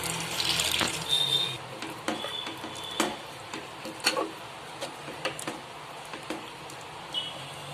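Water left from boiling gongura leaves splashes and pours steadily into a cooking pot of dal, with scattered small clinks and taps of utensils against metal.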